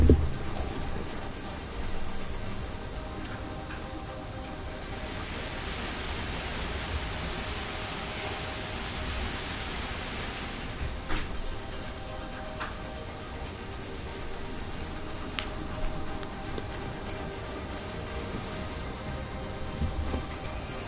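Heavy rain pours down steadily in the video game 428: Shibuya Scramble, a dense continuous hiss of downpour with a few scattered sharper drops and no voices.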